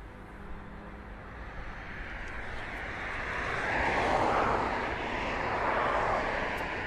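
An aircraft passes at an airshow, a broad steady engine roar that swells to a peak midway and stays loud as it goes by, heard alone with no talking.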